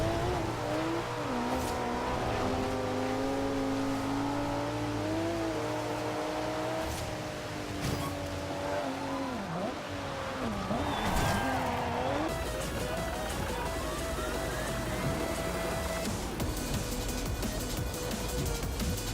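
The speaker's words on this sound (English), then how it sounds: "I would play the car noises over the whole game" Racing-game car audio from Forza Horizon 2 on Xbox One: engines rev up and down with shifting pitch, punctuated by tire squeals and brief passing sweeps, steady and fairly loud throughout.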